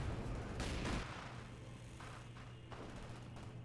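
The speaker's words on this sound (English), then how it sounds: "we have some light artillery over here" Light artillery in the World War II strategy game Company of Heroes 2, a faint distant burst of fire early on, then a low rumbling battlefield backdrop with soft thuds, no voices over it.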